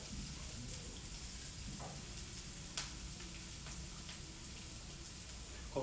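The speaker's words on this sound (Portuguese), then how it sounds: "aqui eu vou acrescentar o alho poró, dando uma fritada" Leeks frying in a pan during carrot cream soup preparation, a soft steady sizzle with faint occasional ticks and a light clatter at the end, quiet and close.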